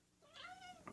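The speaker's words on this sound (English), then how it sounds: "Cat." A domestic cat lets out a single clear, drawn-out meow close to the mic, rising and falling in pitch, followed by a short extra chirp at the end.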